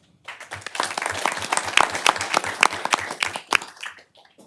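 Audience at a city council meeting applauds award recipients, a burst of clapping that swells quickly, holds steady with sharp individual claps, then tapers off near the end.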